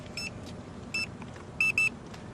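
School bus emergency door alarm, a series of short electronic beeps in irregular bursts, two close together near the end, heard over low idling background rumble.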